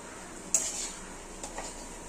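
Half a kilo of chicken pieces for chicken 65 is stirred and sautéed in a pan, with a sharp metal scrape of the spoon followed by two softer scrapes over a faint background hiss.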